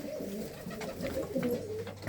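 Pigeons in a breeder's coop with plywood-lined compartments give repeated throaty coos, several birds overlapping in a close, steady murmur without speech.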